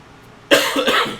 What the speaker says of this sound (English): I have a persistent cough.